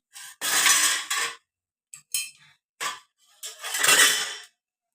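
Dishes and pots clatter in separate bursts of handling and scraping while being washed up in a home kitchen, loud and close, with short pauses between bursts and no talk.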